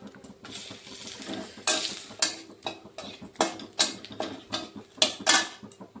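One dried chili and two bay leaves go into hot oil for a tempering, with a soft sizzle under repeated rhythmic scraping and clattering of a spatula against the pan, close and fairly loud, no speech.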